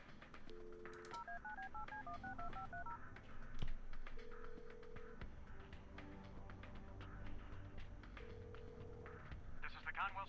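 Dialing a police station's public phone in the Kathy Rain adventure game, a quick run of DTMF keypad tones followed by longer single beeps and ringback tones, with faint game ambience and some speech.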